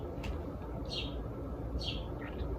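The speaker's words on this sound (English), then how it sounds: "The bird is so loud." A bird chirps loudly nearby in short, separate calls, about three bright notes over a steady low background hum, with no talking.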